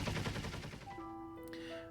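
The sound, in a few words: volley of gunfire from MK-48 cannons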